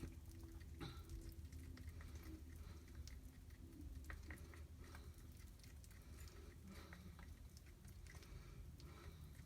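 Chalk paste stirred in a container for a chalk craft project: faint, steady scraping and soft wet patter that continue evenly throughout, with no voices.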